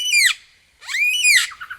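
A lyrebird mimics a cockatoo with two loud, harsh squawking calls, a short one and then a longer, drawn-out screech after a brief pause.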